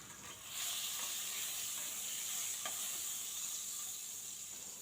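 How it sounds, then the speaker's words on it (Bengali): Pointed gourd (potol) fries in a pan with a soft continuous sizzle and hiss that swells after a quiet start, with one faint tap partway through and no talking. "এখন পটল ভেজে নেব।"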